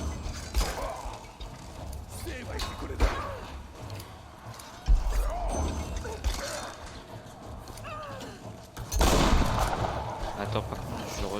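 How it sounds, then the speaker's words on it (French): Shotgun fire in a video game: a few heavy, booming blasts spaced several seconds apart, set among ongoing game noise and clatter, with a voice talking at times. "j'ai envie d'en finir au fusil à pompe"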